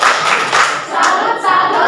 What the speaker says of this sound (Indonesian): Tepuk salut untuk kelompok 3.